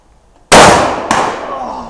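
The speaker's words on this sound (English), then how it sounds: "That's a cannon." A 10 bore shotgun fires outdoors with one very loud, close blast, followed moments later by a second sharp crack and a long decaying rumble.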